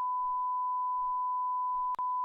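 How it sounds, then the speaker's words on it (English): A steady censor bleep tone holds continuously across the moment, broken by one very short dropout near the end, with faint murmurs of talk barely audible beneath it. "I'm gonna start adding some beeps where there aren't swears"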